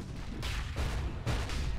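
Creeps blowing up in a Dota 2 match broadcast: several muffled booming bursts in quick succession, dense and moderately loud, with no talk over them.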